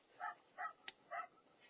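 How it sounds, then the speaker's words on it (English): A dog barks three times at an even pace, fairly faint and somewhat distant, with a brief sharp click between the barks. "whatever type of dog that is barking"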